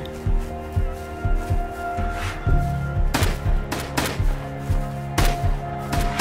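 A Tommy gun fires in the survival video game Rust, a series of rhythmic automatic bursts, loud and close, repeating steadily over a humming background without speech.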